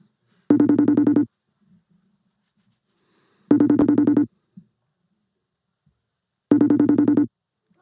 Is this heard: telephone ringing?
yes